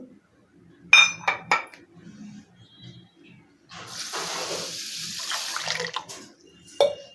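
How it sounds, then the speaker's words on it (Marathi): Water splashes and swishes in a metal pot as rice grains are rinsed by hand, with a few clinks against the rim, fairly close and without talk. "तांदूळ असे धुवायचे आहेत म्हणजे ह्याच्यातील घाण आहे ती निघून जाते"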